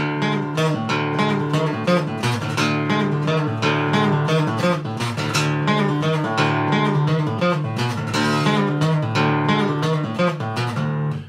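Acoustic guitar riff played with open, ringing strings, notes sustaining into each other in a steady repeating pattern, close and fairly loud, no voices.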